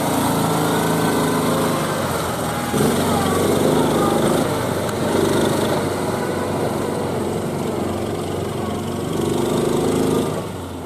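Small motor on a riverbank with drowned tractors, being cranked in a start attempt, runs as a steady buzzing drone with surging pitch for about ten seconds, fairly loud and close, with a voice faintly audible beneath it.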